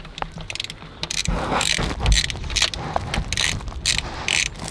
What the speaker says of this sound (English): Undo the spanner socket here.